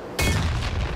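One close, heavy grenade blast in Far Cry 6 bursts suddenly out of near silence, a deep booming thump with a bright crack that rumbles on for a second.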